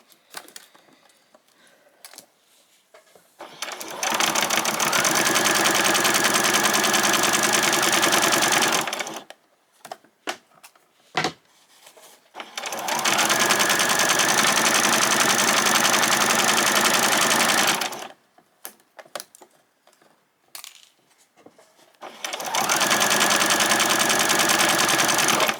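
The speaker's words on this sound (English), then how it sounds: "just run that right through on a straight stitch" A sewing machine running straight stitches along silky fabric in three long steady bursts, with quiet pauses between them holding light clicks and handling noise.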